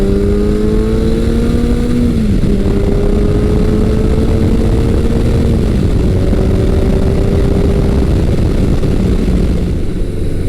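A Kawasaki Z900 motorcycle is ridden on open road, its engine droning loud and steady with rising and falling pitch as it shifts gears, heavy wind rush throughout and no talking.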